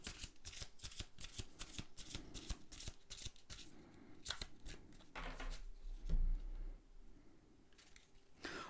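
Tarot cards are shuffled and drawn in a rapid run of crisp riffling flutters and slaps, followed by a softer sliding and handling sound, close and clear without talk.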